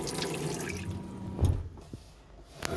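Water splashes from a Dometic tap into a small sink in a T25 camper van kitchen, a short uneven gush with a couple of louder bursts, fairly close and quiet.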